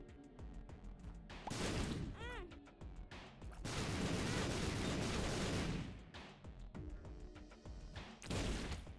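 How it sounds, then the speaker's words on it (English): Explosive projectiles fire in a video game, loud booming blasts in irregular bursts with crackling impacts and a short whistling, chirping effect between them, alone without talk. "When I walk in rooms now, I fire like an explosive projectile."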